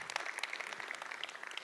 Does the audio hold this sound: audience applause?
yes